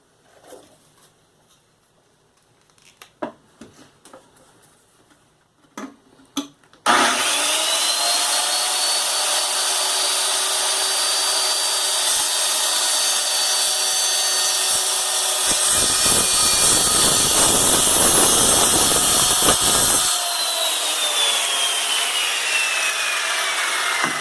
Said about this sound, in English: what I'm going to do is run the circular saw along it and make that cut.